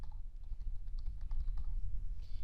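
An email address typed into a booking form on a computer keyboard, a steady run of soft, quick key taps over a low background hum, near and moderately quiet.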